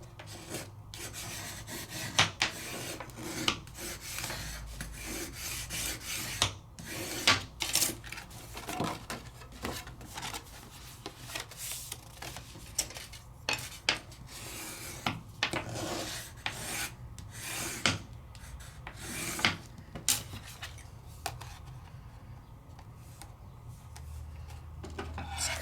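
A scoring tool is drawn repeatedly along folded white paper on a Sizzix crafting setup, making a steady scratchy rasping with quick strokes and small clicks, close and continuous for a long stretch with no talking.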